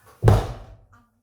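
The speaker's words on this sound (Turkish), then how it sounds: "Şimdi ben bu kapıyı kapatıyorum." A door swings shut with a single solid, close thud and a brief rattle of the latch afterward, with no talk.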